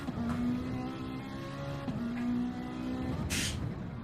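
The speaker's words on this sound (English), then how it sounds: "Getting the Ferrari engine noises" Ferrari GT race car engine during the California 8 Hour endurance race, a steady high-pitched engine drone with a sharp hiss near the end, heard continuously at moderate distance.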